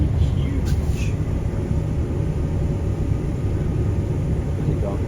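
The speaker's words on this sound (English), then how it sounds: "can someone tell me what that plane is there? Because it is absolutely huge." Huge plane with many wheels passing overhead, a loud, steady broadband roar that holds through the whole stretch with no letup, heard from outdoors.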